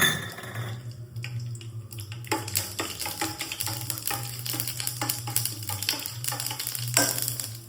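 Mustard seeds crackling and popping in hot oil for a Kerala-style thakkali (tomato) chutney tempering, a sustained sizzle broken by sharp, irregular pops and a few stirring scrapes, close and alone without talk.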